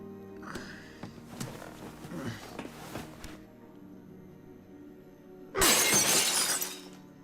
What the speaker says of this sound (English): Then I heard the glass breaking.